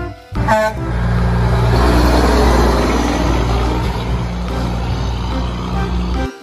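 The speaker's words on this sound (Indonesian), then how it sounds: "Wah, ada truk bahan bakar pesawat" An aircraft fuel truck rumbles past with a loud, steady low engine drone that starts abruptly and fills the whole stretch, with a brief tonal burst near the start.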